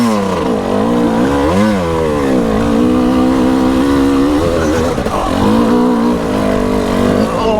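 A Husqvarna TE300i dirt bike engine climbs a slippery hill, loud and close, its revs rising and falling in wavering surges throughout.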